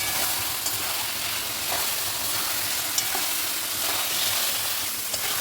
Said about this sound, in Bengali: আলুগুলো আমি মশলা দিয়ে কষিয়ে নেবো